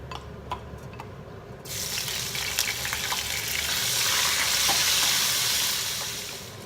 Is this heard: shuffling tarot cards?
no